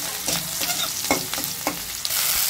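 Onion and chili hit hot oil in a pan while vegetable bhaji is being cooked, giving a steady loud sizzle broken by a few sharp stirring scrapes and clatters.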